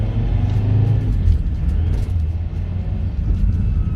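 A Volkswagen Transporter van with 123,000 km on it, its engine still cold, pulls away and accelerates, a steady low engine rumble and road drone up close with no talk.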